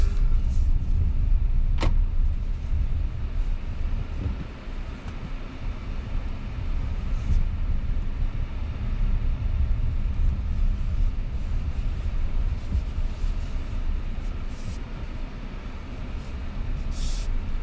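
A Hyundai Palisade SUV powers through deep sand at an outdoor off-road event, giving a loud, steady engine and tire rumble that runs unbroken throughout, with a brief sharp knock near the start.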